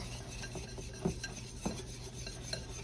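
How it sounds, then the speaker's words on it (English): A whisk stirs flour with baking soda and baking powder in a bowl, making quiet, steady scraping and light clinks with a couple of slightly louder taps, in an otherwise still room. "It says sifted together, but I just take my whisk here and do it just like this."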